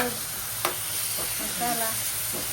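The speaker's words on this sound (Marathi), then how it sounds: "कांदा मिरची आणि टोमॅटो मस्त म्हणजे शिजून द्यायचं आपल्याला चांगलं परतून घ्यायचं" Onion, chili and tomato sauté in a pan with mahua fruits for a vegetable dish, a continuous loud sizzle with occasional stirring scrapes, close by.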